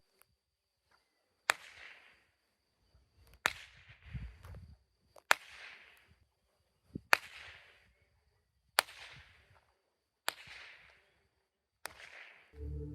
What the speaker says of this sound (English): I cracked a whip.